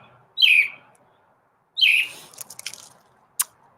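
Small bird gives two bright chirps, then a flurry of quick tweets and one final sharp note, close and clear with short silences between calls.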